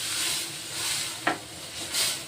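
Water poured into a hot pan of fried green chillies, a sustained close hiss with one sharp burst of sizzle midway, then a swell as the steam rises.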